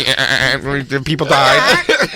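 A man imitates a goat bleating, a loud, wavering, nasal vocal bleat delivered in bursts close to the microphone.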